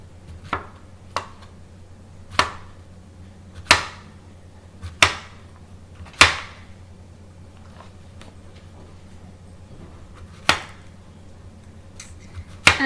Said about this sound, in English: I'm looking at maybe 1/4 of an inch thick as I'm cutting up my zucchini